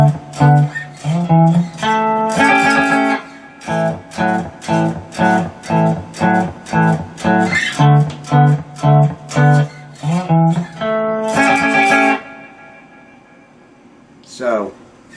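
A cigar box guitar plays a chord riff from a song: loud, rhythmic, repeated strums with a short dense flurry near the end, then a pause before a final strum.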